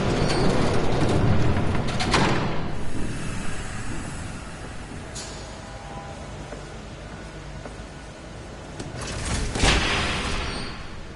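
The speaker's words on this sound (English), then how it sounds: "There's a train coming." A train approaching in Batman: The Telltale Series, a long noisy rumble with rattling bursts that swells near the start and again near the end, heard without talk.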